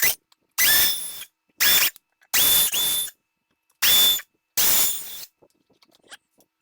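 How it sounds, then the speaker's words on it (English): A power drill fitted with a smaller bit runs in five separate bursts of about half a second to a second each, loud and close, with short silent gaps between them while plastic clips are removed from a golf cart body. "We're going to try a smaller drill bit."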